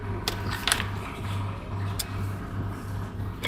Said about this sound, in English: A truck that does not know how to turn off its engine when it's parked.